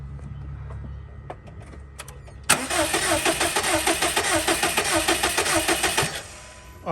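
Subaru WRX STI engine being cranked over on the starter for a compression test, a rapid rhythmic chugging that starts abruptly after faint background sounds and runs steadily for several seconds before stopping, loud and close.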